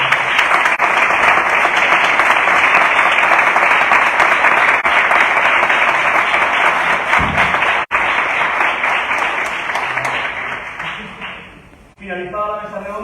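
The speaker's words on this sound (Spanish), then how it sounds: "quiero pedir un fuerte aplauso para todos" Loud, sustained applause from an audience at a round table event marking a 25th anniversary, dense and steady for about eleven seconds before thinning out and fading.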